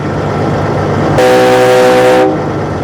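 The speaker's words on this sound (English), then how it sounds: "Over here is going to do the train horn." A loud, blaring train horn on a Kenworth tractor-trailer sounds one sustained blast of about a second over a steady engine idle, then cuts off.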